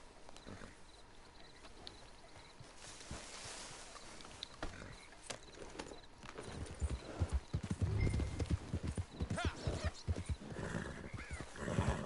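Horse hooves clip-clop in the video game Red Dead Redemption 2, a faint background bed giving way to a louder run of irregular hoof beats, with a few animal calls mixed in.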